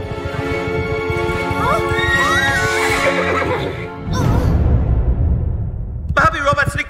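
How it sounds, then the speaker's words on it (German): A horse in a race neighs in a long loud whinny over rumbling hoofbeats in an audio drama, followed by another shrill whinny; a voice speaks over the scene. "Als Barbie versucht, an Philipp vorbei zu galoppieren, schneidet er mit seiner Spore ihren Sattelgurt durch."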